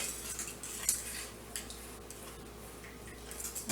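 A fork scrapes and clinks against a dish while stirring a creamy smoked sausage, zucchini and macaroni casserole, with faint, soft, intermittent taps and light scraping over a quiet background.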